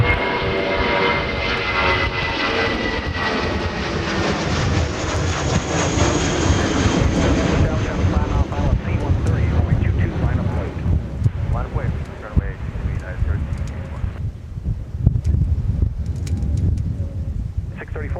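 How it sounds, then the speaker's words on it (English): A United Airbus A319 departing Minneapolis–St. Paul for Denver throws out a loud, broad jet-engine roar that swells and then slowly recedes, with wind noise and a few faint bird calls around it. "here is United 634 to Denver International with an A319"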